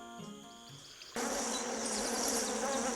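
Wasps buzz in a dense, droning swarm that swells abruptly after a quieter tonal passage, then holds loud and continuous, close by with no speech.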